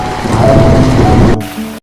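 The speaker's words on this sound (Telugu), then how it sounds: "అప్పుడే వర్షం కురవడం మొదలైంది" Heavy rain pours down as a dense, loud, continuous roar, heard alone, accompanying a telling of the great flood.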